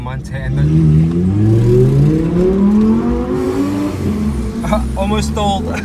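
Lamborghini Huracan Performante with twin-turbo engine and exhaust, revving loudly up through the range with rising harmonic tones, then settling into a steady rumble as a car passes nearby, with talk over it.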